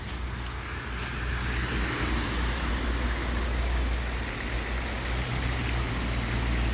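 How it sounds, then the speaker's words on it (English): Stream water spills over a small waterfall, making a steady, dense rushing and splashing that carries on without pause. The sound is close and even, with no voices. "It's a nice little waterfall that I have to clean up and"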